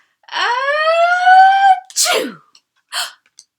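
A single loud, drawn-out vocal "achoo" sneeze with a rising wail, ending in a sharp burst, followed by two brief fainter bursts.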